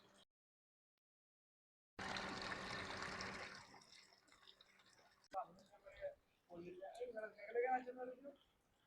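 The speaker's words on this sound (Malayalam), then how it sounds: "ബാക്ക് വാഷിലേക്ക് വെള്ളം തിരിച്ചിരുന്നു" Water rushes loudly for a couple of seconds during a home water filter cylinder's backwash, then drops to a quieter flow beneath someone speaking.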